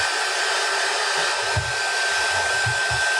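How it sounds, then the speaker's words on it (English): A hair dryer blows steadily and loudly to dry paint on a white DIY snowman craft, its even whooshing roar running without pause and with no talking. "I'm gonna dry that out."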